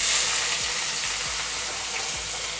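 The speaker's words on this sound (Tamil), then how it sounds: "வெங்காயம் கொஞ்சம் வதங்கட்டும்." Sliced onions fry in hot oil with cinnamon, cardamom, cloves and bay leaf, a loud steady sizzle close by with a few soft scraping stirs of a spoon through the pan.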